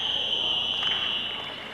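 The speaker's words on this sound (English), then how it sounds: "Couldn't quite beat the buzzer with it." An electronic buzzer sounds to end a period in a 135-pound wrestling match, giving a steady, sustained high tone that fades slightly toward the end.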